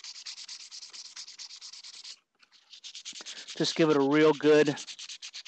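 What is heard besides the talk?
sanding PVC/Sintra armor plate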